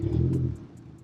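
A car engine revs as the throttle is pressed, a loud low rumble that holds briefly and then eases back toward idle.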